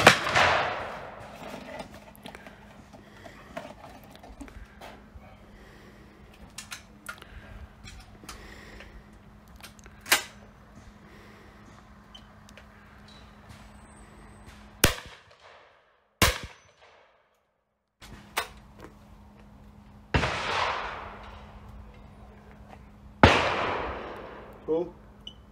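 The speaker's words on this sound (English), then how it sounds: "So we're just going to shoot both the Beretta 694 and the Krieghoff K-80 Super Sport with these cartridges." Shotgun shots from a Beretta 694 and a Krieghoff K-80 Super Sport fired at an outdoor range, several sharp cracks spaced irregularly with quiet gaps between them.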